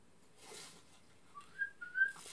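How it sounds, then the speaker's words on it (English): A few soft whistled notes rise and hold in a quiet, tense scene from a short horror film, faint and alone with little else around them. "Fuck the whistling, yo."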